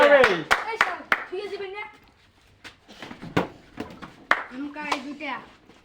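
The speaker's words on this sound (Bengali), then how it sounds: "হাতের তালি" Several people clap their hands together during a lively group game, with sharp bursts of claps at the start and again later, mixed with excited children's and adults' voices talking.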